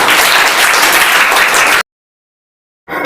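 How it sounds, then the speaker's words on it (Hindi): Loud, dense applause from a coaching-class quiz audience for about two seconds, then a full second of silence before the clapping starts again. "ठोको ताली"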